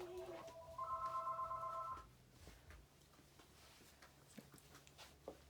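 A telephone rings in a fabric store, a close electronic ringing tone lasting about two seconds, then quieter room sounds with faint background noise.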